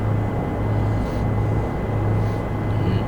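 A Bell 407 helicopter in the X-Plane 11 flight simulator hums along in cruise with a steady low engine and rotor drone, broad and unchanging, with no talking.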